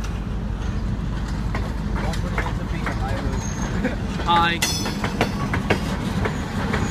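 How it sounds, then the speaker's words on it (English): A train passes at a railfanning camp, its loud locomotive engine rumbling steadily as boxcars roll by with a clattering, grinding wash of wheel noise, while people talk nearby. "That's a loud engine."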